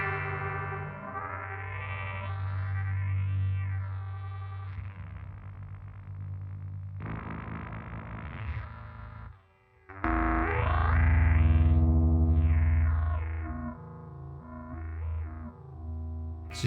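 A vintage Moogerfooger 12-stage phaser sweeps a sustained synth tone up and down, its resonant notches rising and falling and edging into self-oscillation, with a brief dip before a louder, brighter swell.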